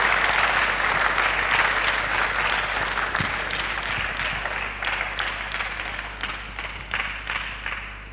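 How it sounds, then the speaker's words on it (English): An audience applauds the vice-chancellor at a university alumni lecture, a steady, dense crowd clapping that holds for the whole stretch and eases slightly toward the end. "Please let's clap for him again."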